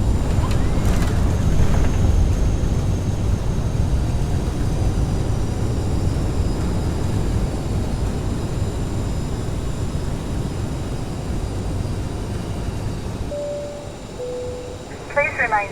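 Airliner rolling on the runway after a night landing at Frankfurt in rain, a steady loud broadband roar of engines and rain-soaked wheel noise that slowly eases, ending with a short chime.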